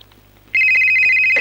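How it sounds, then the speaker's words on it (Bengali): A telephone bursts into a loud, sustained electronic ring after a brief quiet hum, ringing steadily and close up with no talking, in a Bangla movie scene. "ফোন ফোন ফোন বাজে"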